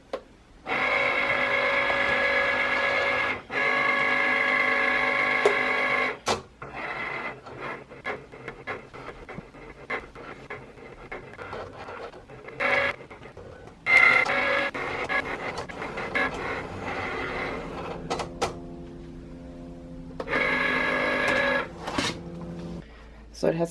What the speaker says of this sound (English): And now I can press go on the machine.